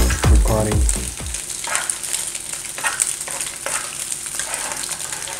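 Eggs sizzle steadily in a frying pan for traditional Brazilian pão com ovo, a continuous close hiss after a brief low thump at the start, with no talking.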